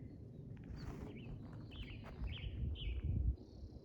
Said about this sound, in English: The birds are happy this morning.